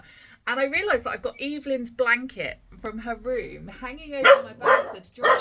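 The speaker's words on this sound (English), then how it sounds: "I'm sorry about the dogs." Household dogs bark and yip intermittently behind someone speaking close to the microphone indoors, the barks partly masked by her continuous talk.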